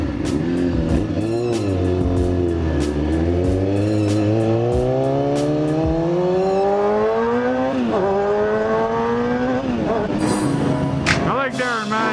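A Honda CBR 600RR sport bike revs hard nearby, its engine pitch climbing in long sweeps as it accelerates, dipping briefly, then rising again, with voices talking over the roar.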